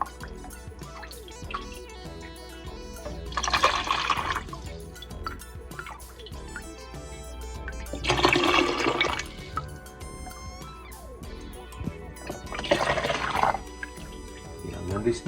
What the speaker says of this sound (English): Now we just strain it right through,